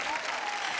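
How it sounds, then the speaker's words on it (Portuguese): Audience applause for a Brazilian Michael Jackson tribute performer, a dense, continuous burst of many hands clapping at steady loudness throughout. "Totoro, palmas pro Totoro, gente!"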